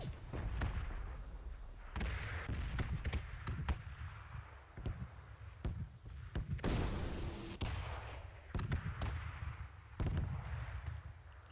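Gunfire in PlayerUnknown's Battlegrounds, a scattered series of muffled, booming shots at irregular intervals that sounds somewhat distant, with some louder bursts and quieter reports between them.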